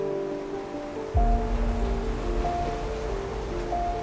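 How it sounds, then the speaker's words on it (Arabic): Steady low wash of surf rolling in, with a deeper surge starting about a second in and faint tonal hums above. "تسمع صوت الموج،"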